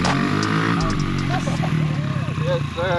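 A small pit bike engine running in a backyard, a low, steady idling drone that stays under someone talking loudly over it, close to the mic.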